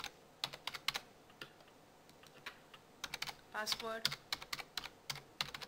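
Rapid computer keyboard typing in irregular bursts of sharp clicks, fairly close, while a voice speaks briefly between keystrokes during a command-line device connection setup.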